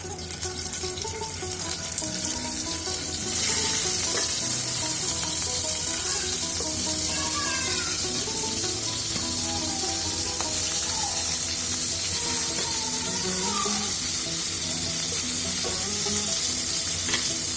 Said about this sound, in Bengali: এই তেলের মধ্যে আমি দিয়ে দেবো চিংড়ি মাছগুলো